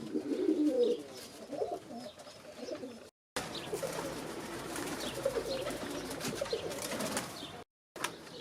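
Zamość pigeons coo in a loft, soft low murmuring calls repeating close by, with faint rustling and a few brief chirps around them.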